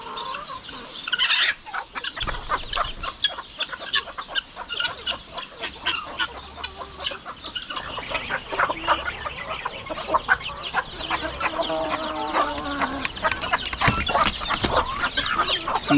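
Turkey chicks on a farm, some sluggish from cold weather, peep in busy, overlapping high chirps close by, with louder bursts scattered through a continuous chorus. No speech.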